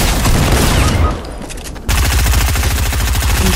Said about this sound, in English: Oh shit, I can't, they're shooting me.